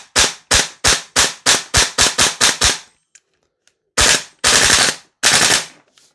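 A Noveske Ghetto Blaster MWS gas blowback airsoft rifle fires a rapid string of about a dozen sharp, loud shots with clacking action, pauses, then fires a few more bursts nearby.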